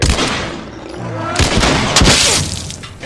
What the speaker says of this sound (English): Now let's just shoot him.